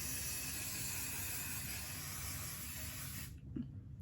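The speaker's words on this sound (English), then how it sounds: "a layer of the Bedhead Hard Head Spray" A steady, loud spray of Bedhead Hard Head hair spray hisses close by for over three seconds, then cuts off abruptly, leaving a short quiet tail with a faint thump.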